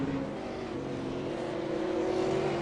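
V8 Supercars racing at Oran Park, a steady loud engine drone with sustained revving tones from cars through a long right-hand section, continuous without pause.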